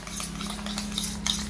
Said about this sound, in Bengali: যতক্ষণ না ক্রিমি ভাব আসবে ততক্ষণ আপনাদের নাড়িয়ে যেতে হবে